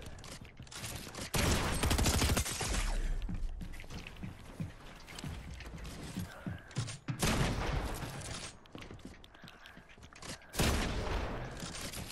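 Rapid bursts of shotgun and other gunfire in a video game, loud blasts clustered in volleys with short gaps between them, mixed with clanking mechanical game effects and no talking.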